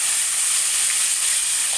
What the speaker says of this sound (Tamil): இப்போ நம்ம வெங்காயம் போட்டுக்கலாம்.